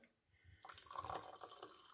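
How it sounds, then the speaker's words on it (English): Tonic water poured over ice for a traditional British gin and tonic, a bright liquid splash and steady fizzing hiss that starts after a short quiet lead-in and carries on, close and moderately loud. "Oh, that beautiful movie type fizz"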